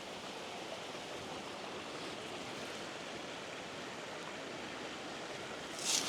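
A forest waterfall in Glenariff Forest Park gives a steady, dense rushing roar of falling water throughout, even and unbroken, with a brief brighter splash near the end.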